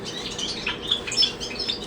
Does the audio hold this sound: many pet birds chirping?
yes